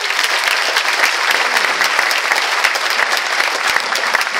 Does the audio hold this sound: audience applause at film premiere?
yes